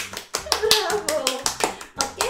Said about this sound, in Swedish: ska vi ge oss själva en applåd?